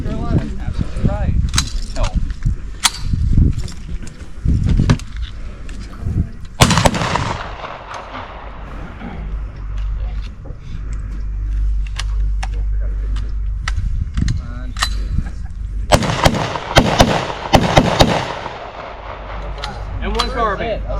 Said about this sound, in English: That was M1 Carbine, ladies and gentlemen